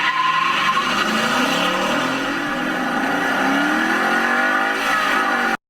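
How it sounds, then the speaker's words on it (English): A 2015 Ford Mustang GT with a 5-liter V8 revs loudly as a ringtone, the engine note rising and falling in steady sweeps for several seconds before it cuts off abruptly, with no talking. "the ringtone that's out there is from our Mustang GT with our 5-liter V8"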